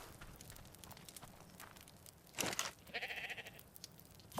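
Sheep bleating in Ark Survival Ascended on the Valguero map, a short bleat burst standing out mid-clip over a low steady game ambience, with softer rustling and footstep-like crunches around it.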